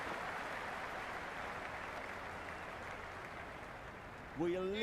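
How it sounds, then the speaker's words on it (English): Crowd cheering in the Cricket 26 video game during a Big Bash League match, a steady, fairly faint wash of crowd roar throughout, with a voice breaking in loudly right at the end. "Will you listen to that crowd? They are loving this."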